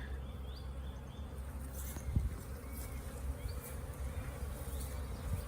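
Honeybees buzzing around beehives on a fine spring day after winter: a continuous soft, droning hum of many insects, with occasional individual bees passing nearer, all fairly faint and steady.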